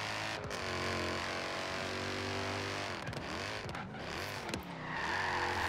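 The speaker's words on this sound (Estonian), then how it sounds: "Aga nüüd see auto hääl on ikka palju haigem." Car engine in the racing game Forza Horizon 3, running steadily with layered harmonic drone and rising and falling revs as the car accelerates and shifts, loud and continuous throughout with no talking.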